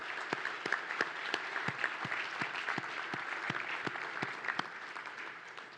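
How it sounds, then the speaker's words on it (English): An audience at a World War II conference applauds steadily, a dense wash of many hands clapping with some sharper individual claps standing out, sustained throughout at moderate volume. "let's give them a round of applause"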